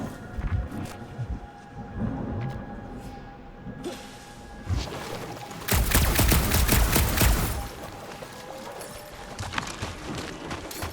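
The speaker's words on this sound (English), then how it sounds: "Didn't think I'd ever be shooting at a resistance ship." Gunfire at a resistance ship in the Guardians of the Galaxy video game, a dense volley of rapid shots peaking in a loud burst midway, with scattered impacts and whooshes around it.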